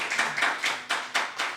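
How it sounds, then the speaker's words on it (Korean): An audience at a Sunday church service claps together to welcome a guest, with about six firm, evenly paced bursts, close and clear, with no talking. "오셨는데 박수로 환영하겠습니다."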